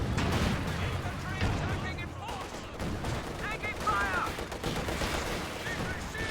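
MG34 machine gun firing in a video game match, dense rapid gunfire running continuously over a busy battle soundscape, with a commentator talking over it.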